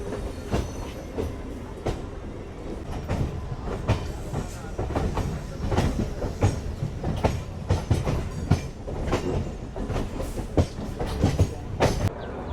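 A MEMU express train runs toward Chennai Central, heard from onboard as a steady low rumble with continuous clickety-clack of wheels over rail joints and occasional sharper knocks, with faint talking in the carriage.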